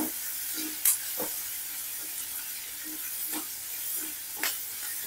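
Ginger and garlic frying in hot oil give off a steady faint hiss and sizzle, broken by a few short sharp crackles and spits, with no talk.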